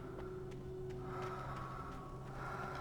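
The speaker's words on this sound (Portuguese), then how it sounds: "Vocês estão ouvindo essa respiração, gente?" Quiet, heavy breathing in Alan Wake Remastered, with a few soft snorting breaths spaced across a low, steady background of game ambience.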